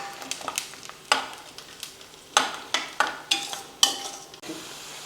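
Cut, dried garlic fries in oil in a pan for homemade pickle seasoning, and a utensil knocks and scrapes the pan in sharp separate strokes over a low sizzle. No one speaks.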